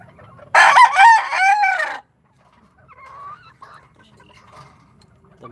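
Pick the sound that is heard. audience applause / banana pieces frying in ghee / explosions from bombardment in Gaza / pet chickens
pet chickens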